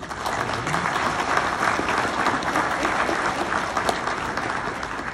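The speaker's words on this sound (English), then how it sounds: "let's have a round of applause for her" An audience at a small banquet breaks into sustained applause, a thick, even wash of clapping from many people that carries on without a break.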